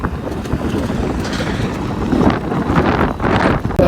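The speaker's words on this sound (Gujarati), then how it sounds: "વરસાદ નથી નીકળતા વધારે પવન છે." Strong wind roaring across the microphone during a motorcycle ride in rainy weather, a loud continuous buffeting rush that swells and gusts with no speech over it.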